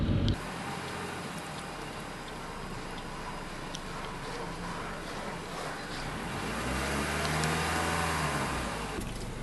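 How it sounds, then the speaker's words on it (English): A car steered with a spinner knob drives down the road, giving a steady interior engine and road drone that swells gently as the engine note rises, with faint ticking in the cabin and no talk. "As the vehicle straightens up, we can drive down the road with perfect mobility"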